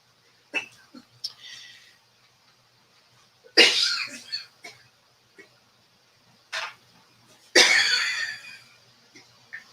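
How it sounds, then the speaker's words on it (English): Two loud, harsh coughing bursts with a few smaller coughs and breaths between them, close by, with no talking. "that was a big cough"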